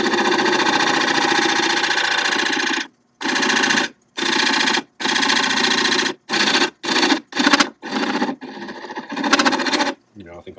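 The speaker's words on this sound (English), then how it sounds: "It might not like it at this rev speed of only 600 revolutions per minute." Wood lathe spinning a mango wood blank at a slow 600 rpm, a loud steady whirring and rumbling hum that breaks into repeated short bursts with brief silences as cutting starts and stops.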